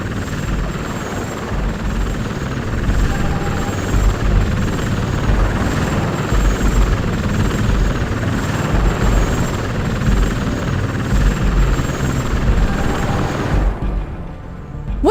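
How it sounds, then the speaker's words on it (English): A helicopter in the video game Robot Alchemic Drive thrums with a steady, loud rotor chop and engine drone that persists throughout before cutting off abruptly near the end. "What's that helicopter trying to do? That looks like a BNN helicopter."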